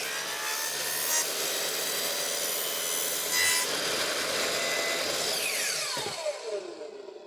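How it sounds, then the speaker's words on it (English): A window blind is cut to size by hand, a continuous rasping sawing stroke that carries steadily at close range, ending with a brief clack, with no talking. "Okay, we're just going to cut just a little bit."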